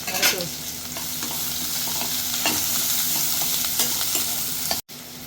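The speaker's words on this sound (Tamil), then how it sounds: "போட்டு நல்லா மிக்ஸ் பண்ணுவோம்." Chicken sizzles steadily in a hot pan while a utensil scrapes and stirs spices through it, with a brief cut-out near the end.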